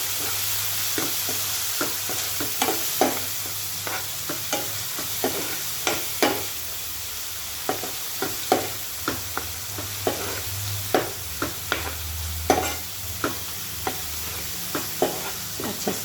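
Red masoor dal with turmeric and salt gets stirred in a pot, a spoon scraping and knocking in a steady run of close strokes over a soft, continuous simmering sizzle.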